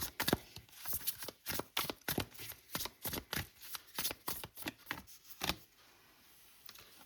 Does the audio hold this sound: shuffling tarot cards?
yes